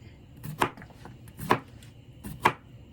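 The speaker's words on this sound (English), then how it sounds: "Cucumber, slice it up." A knife cuts through cucumber on a board three times at an even, unhurried pace, each slice a crisp, close chop over a quiet background.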